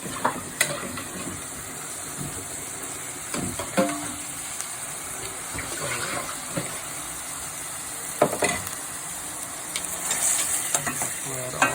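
Shrimp sautéing in a pan for a Chinese stir-fry with soy sauce, honey, scallions, garlic and onions, a steady loud sizzle with intermittent stirring scrapes and clatters throughout.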